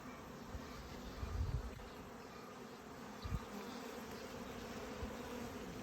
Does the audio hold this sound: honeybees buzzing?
yes